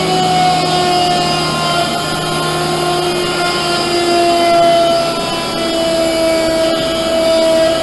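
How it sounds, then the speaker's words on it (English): A 25-horsepower motor drives the headstock of a Leifeld PLB 1200 spinning lathe, giving a steady, loud machine hum with a constant pitch and faint higher whine throughout, and no talk. "Here's the headstock, run by a 25 horsepower motor."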